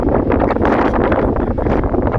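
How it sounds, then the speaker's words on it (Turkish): Strong, warm wind on the Kordon waterfront in Alsancak, İzmir, buffets the microphone in a steady, loud rumble with gusty fluctuations, no voices heard. "Rüzgar var ama gerçekten bayağı bir sıcak esiyor"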